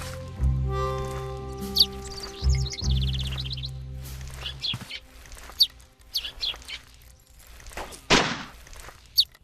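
Sparrows chirp in the video game Edna & Harvey: Harvey's New Eyes, a scatter of short, bright tweets heard alone over sustained low game tones that fade out early.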